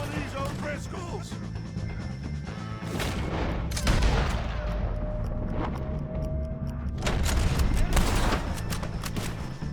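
Repeated gunfire and booming shots ring out in a Red Dead Redemption 2 shootout against O'Driscoll gang members, sharp cracks over a dense rumbling backdrop, with voices shouting amid the fighting.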